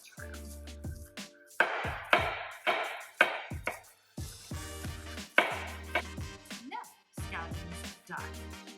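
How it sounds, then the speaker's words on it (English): Scallion being thinly sliced with a knife on a cutting board, a brisk run of crisp chopping thuds, close and loud, with brief pauses between bursts. "we're gonna thinly slice our scallion"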